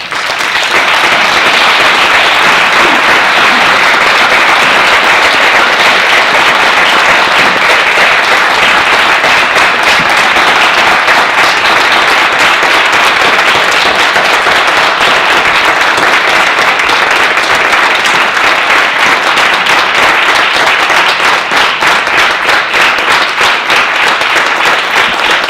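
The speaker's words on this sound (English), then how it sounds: "join me in giving a well-deserved and long overdue round of applause" Sustained audience round of applause for a retired U.S. Navy Petty Officer, loud and steady dense clapping across the whole stretch with no voices above it.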